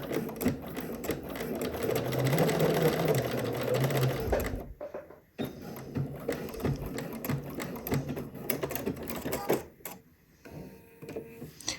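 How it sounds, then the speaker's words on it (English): A home sewing machine bastes the side seam of a swimsuit, running in a steady close whirring stitch for several seconds, pausing, then restarting in shorter bursts. "So now I'm going to baste this side in place."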